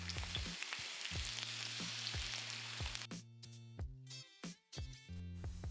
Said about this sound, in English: While the steak is frying